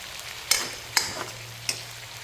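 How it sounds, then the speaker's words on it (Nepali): Tomato gravy for a bitter gourd dish cooking in a pan on a medium gas flame: a soft steady simmer and sizzle with three sharp utensil clinks against the pan, no talking. "ग्यासलाई मिडियम फ्लेममा राखेर मैले एकछिन पाक्नको लागि छोडिदिएँ"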